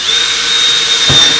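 A power drill bores through the plastic body of a Craftsman riding lawn mower, a steady high whine throughout with a short, heavier grinding burst near the end as the bit breaks through.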